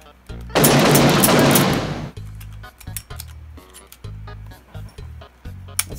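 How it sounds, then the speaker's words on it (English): Gunfire in a video game, a loud burst of broadband noise lasting over a second, followed by quieter rhythmic musical thumps and clinks from the game's soundtrack. "I just opened fire in Papyrus' room."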